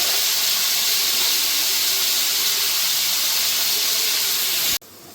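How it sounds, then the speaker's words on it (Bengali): Pointed gourd (potol) frying in a pan gives a loud, steady, unbroken hiss, like a continuous sizzle, that cuts off abruptly just before the end. "ভালো করে পটলটা একটু ভেজে নেব।"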